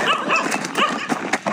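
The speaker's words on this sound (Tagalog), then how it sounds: "Ito, may aso." A dog barks and yips in a quick run of short, close calls with a few whimpering notes between them, loud and heard alone without talk.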